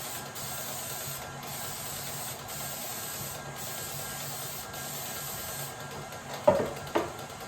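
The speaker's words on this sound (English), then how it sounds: "we're just gonna spray them." A long, steady hiss of cooking spray sprayed into a muffin pan in bursts with short breaks, followed by two light knocks of something set down.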